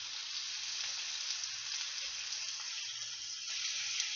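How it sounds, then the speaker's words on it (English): Food sizzles steadily in a hot pan during meal prep, a continuous bright crackling hiss with faint low kitchen hum beneath. "Yeah, baby, it's sizzling."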